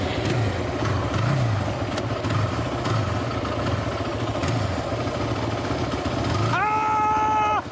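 A kickstart motorcycle engine runs steadily in gear, a low throbbing idle close by, with a voice talking over it near the end.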